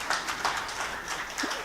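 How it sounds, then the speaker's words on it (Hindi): Applause from an audience at a mushaira award ceremony for Professor Saeed, a steady patter of many hands clapping at moderate level, fairly distant and continuous throughout. "ज़ोरदार तालियां इस शख्स के लिए"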